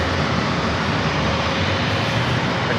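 Loud, close, continuous engine roar of an aircraft taking off from runway 27, a dense broadband rumble holding steady throughout with no talk.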